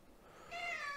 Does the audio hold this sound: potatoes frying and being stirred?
no